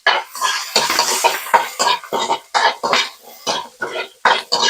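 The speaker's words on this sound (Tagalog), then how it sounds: "Yan po, tayo magigisa na ng bawang. Ilagay na natin yung sibuyas." Garlic and onion sautéing in a pan, dominated by repeated spatula scrapes and metal clinks against the cookware over a light sizzle, close up, in uneven bursts.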